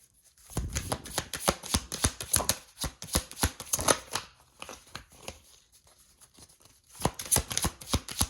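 Tarot cards being shuffled by hand, a dense run of crisp riffling flutters in several bursts, with a quieter pause near the middle before a final flurry, close and fairly soft with no talking.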